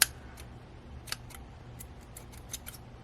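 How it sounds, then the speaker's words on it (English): Scissors snip repeatedly at embroidery floss thread, a series of faint, sharp clicks and crisp cuts spaced irregularly in a quiet room. "Scissors do not want to cut thread."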